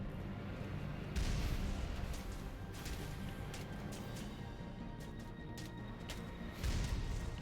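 Heavy gunfire and booming blasts in the video game Mass Effect 1 Legendary Edition, a dense rumbling barrage with two louder bursts near the start and end, steady and moderately distant.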